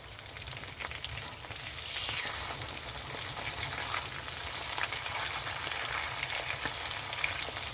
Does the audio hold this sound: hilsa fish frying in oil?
yes